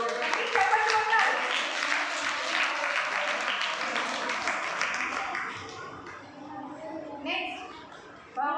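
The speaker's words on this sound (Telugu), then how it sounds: "చప్పట్లు కొట్టండి, చప్పట్లు కొట్టండి." Audience clapping at a church's vacation Bible school final-day prize giving for a junior-group drawing winner, a crowd's steady applause that tapers off, with a voice talking over it near the end.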